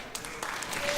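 Brief burst of audience clapping for orchestra violinists, scattered hand claps rising in a hall over about a second, moderately loud.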